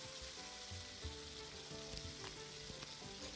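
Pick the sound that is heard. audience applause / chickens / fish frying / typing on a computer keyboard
fish frying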